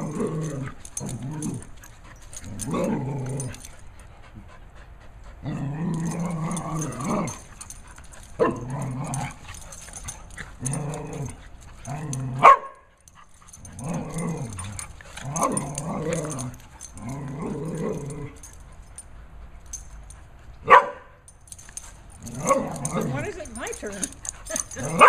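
Dogs bark and growl in short, close outbursts and whimpers, scattered among people talking throughout.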